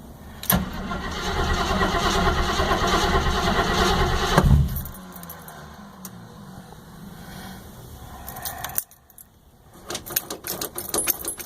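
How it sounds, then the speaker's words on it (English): An old vehicle with a carburetor and a new battery in cold weather is cranked over, giving a loud steady churning that runs for about four seconds and then stops, followed by quieter rattles and a second burst near the end. "So let's crank it over, see what happens."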